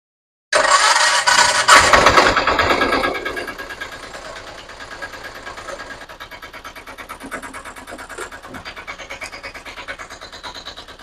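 A Piaggio Ape auto rickshaw engine, checked after a beating adjustment, cranks and fires loudly at close range, then settles into a steady rapid idle chatter that continues to the end.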